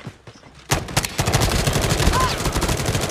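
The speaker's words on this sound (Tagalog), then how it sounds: "Gunshot by JM." Rapid automatic gunfire from a Call of Duty Mobile scrimmage match bursts in after a quiet start, dense repeated shots continuing loud and close for the rest of the moment.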